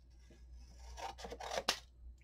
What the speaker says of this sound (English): I'm going to cut from an angle this way.